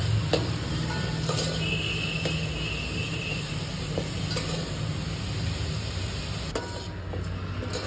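Tomatoes with salt stirred in a pan for green peas pulao, a steady low sizzle with soft scraping strokes and occasional light clicks of the spoon against the pan, close and continuous with no talking.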